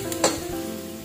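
Large organic garlic sizzling in a hot pan, a steady close frying hiss with a brief stir or clatter near the start and no talk.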